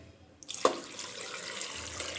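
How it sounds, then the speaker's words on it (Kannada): Water poured into a pressure cooker holding vegetables for sambar: after a quiet start, a splashing gush starts abruptly and continues as a steady close rushing pour. No voices. "ಈಗ ನಾನು ನೀರು ಸೇರಿಸ್ಕೊತೀನಿ ನೋಡಿ"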